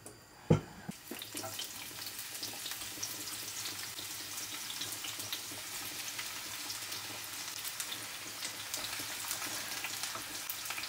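Onions fry in a pan. A single clunk comes first, then an even, continuous sizzling hiss that holds steady to the end.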